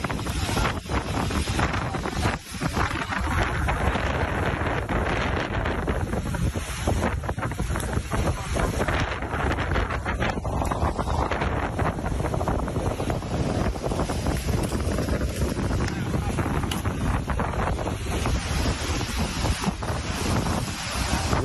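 Strong storm wind roars at sea around moored Thai fishing boats during heavy rain, a loud, continuous buffeting gale with crashing waves and wind rumble on the microphone throughout, no voices.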